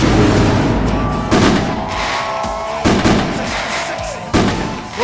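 A fireworks sound effect with three sharp, booming bursts about a second and a half apart. Each burst stands out over a dense, crackling background.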